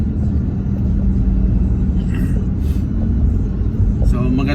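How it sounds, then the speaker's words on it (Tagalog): Heavy road traffic on Commonwealth Avenue in Metro Manila, a loud, close, continuous engine rumble with passing vehicles and the odd horn, while someone talks over it. "Sobrang traffic."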